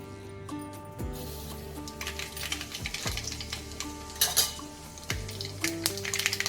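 Mustard seeds added to hot oil for tempering a wild-leaf vegetable dish, with a close sizzle and crackle, a few sharp pops and clinks of utensils against the pan.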